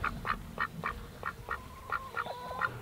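Homestead ducks quack in a steady series of about a dozen short, fairly close calls, rhythmic and evenly spaced, with a faint second bird joining near the end.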